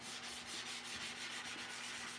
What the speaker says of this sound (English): Back to sanding, man